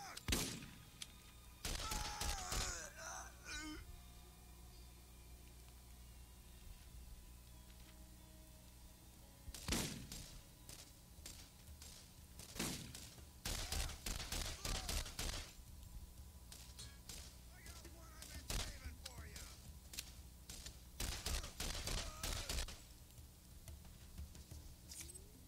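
Enemy shotgun blasts in the shooter game Borderlands ring out in scattered loud bursts, some in quick clusters, over a low steady background hum.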